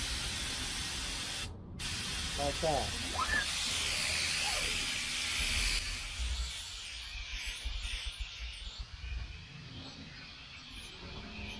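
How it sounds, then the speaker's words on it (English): A spray gun hisses out gel coat onto a fiberglass motor lid in a long, steady spray that rises and holds, then breaks into shorter bursts, with a few words spoken briefly near the start. "And you start your spraying"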